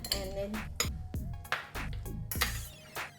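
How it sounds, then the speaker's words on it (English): Meat for marinating is moved into a bigger bowl, with close, irregular clinks and clatters of dishes and utensils knocking together, each a sharp bright hit, under faint background talk. "I'm going to put the meat in the bigger bowl"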